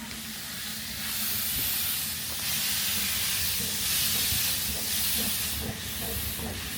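A steam train on a Welsh narrow-gauge line rolls past a remote railway cottage, heading down toward Porthmadog, with steady hissing steam and low rumbling wheel noise held at a constant level throughout.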